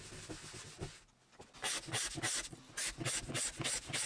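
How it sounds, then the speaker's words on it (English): Wood veneer on a cocktail cabinet is rubbed down with white spirit, giving rhythmic, close, hissing scrubbing strokes that repeat in quick bursts after a short pause. "Here I'm rubbing down with white spirit again"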